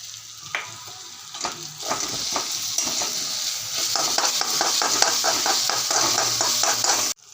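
Curry leaves and crushed green chili paste sizzle in hot frying oil, a steady bright crackle with rhythmic scraping of a spoon stirring the pan, close and loud, no voices.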